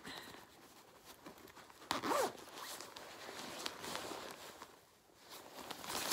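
Zipper on a bag pulled open, one quick sharp zip close by after faint rustling and handling noises, with more soft rubbing afterward.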